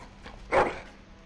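A single short dog bark from the video game Dragon Age: Origins, one moderately loud burst over a quiet background.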